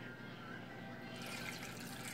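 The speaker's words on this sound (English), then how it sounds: "I'm gonna put some water in there." Water pouring into a drink shaker bottle at a kitchen counter, a soft steady trickling stream that brightens partway through, quiet and close with no voices.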